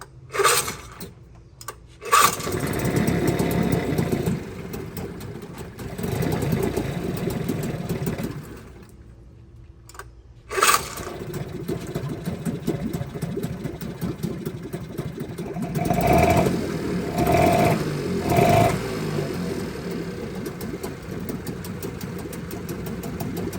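A 1979 3.5hp outboard motor on a john boat idles steadily with a rough, rattling drone, briefly cutting out and restarting, then running on unevenly close by.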